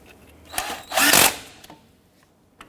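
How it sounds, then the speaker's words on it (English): A power tool tightens a strut bolt on a 2006-2014 Honda Ridgeline steering knuckle assembly in brief close bursts: a short whir, then a longer buzzing run, then a few faint clicks. "Now that we have that bolt started, you can tighten that down."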